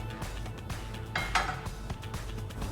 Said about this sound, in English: Then we put the pan on.